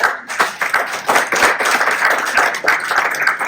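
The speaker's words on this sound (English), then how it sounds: "So please give yourselves a big round of applause." Audience at a book launch claps loudly in a dense, lively round of applause, individual hand claps standing out close by through the few seconds.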